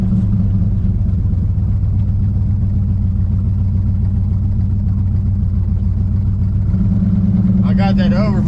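A 1968 Plymouth Road Runner V8 runs steadily and loudly up close, a continuous deep engine drone with a brief rise in pitch near the end as a voice speaks over it.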